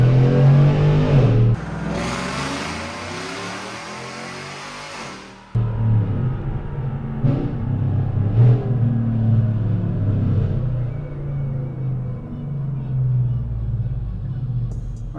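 A Whipple supercharged 6.2L GMC Sierra Denali engine roars under load on a dyno, loud rumbling revs climbing, a sharp drop and shift near five seconds, then a sustained pull continuing to the end.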